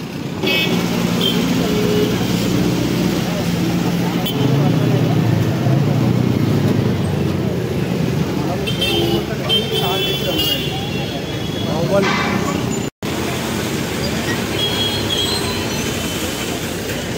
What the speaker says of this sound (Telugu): సో పోల్ నించిన టైంలో కూడా మనకు ట్రాఫిక్ చూస్తున్నారు కదా ఏ విధంగా ఫుల్ ట్రాఫిక్ అవుతుందో